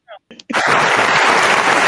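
A room of line dancers bursts into sustained applause after a few brief claps and a short vocal burst, the dense clapping filling the space loudly and steadily to the end.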